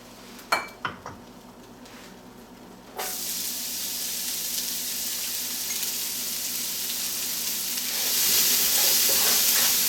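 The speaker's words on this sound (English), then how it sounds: "we're going to add about another tablespoon of oil to this pan, and we're going to sweat those shallots" Shallots sweating in hot oil in a pan: a few clinks and knocks, then a sudden loud, steady sizzle that grows stronger toward the end, close and without talk.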